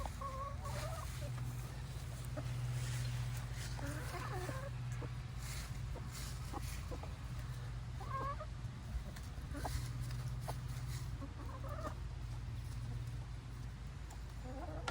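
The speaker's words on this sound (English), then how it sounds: "we got some happy chickens" Several backyard chickens cluck softly in short, repeated bursts over a steady low background hum, fairly close, with faint murmuring voices now and then.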